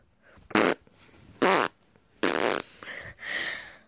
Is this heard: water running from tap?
no